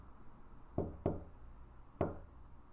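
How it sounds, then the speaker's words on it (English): Three sharp knocks on a door land close by in an uneven pattern, two quick raps followed by a pause and a third, against a quiet background. "Someone was clearly knocking on his door."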